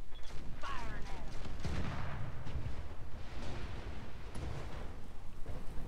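Mech weapons firing in the video game Roguetech, with dense booming, crackling game combat layered through the whole stretch, loud and continuous with heavy low rumble.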